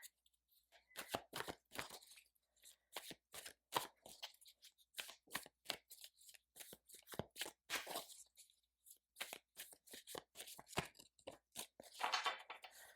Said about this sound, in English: You saw me shuffling those cards